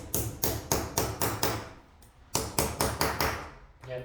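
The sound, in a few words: hammer tapping a PV cable lug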